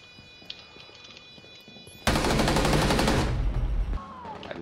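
In a video game, a loud, sustained burst of automatic gunfire erupts after a quiet stretch, rattling for about two seconds before cutting off, with faint game ambience around it.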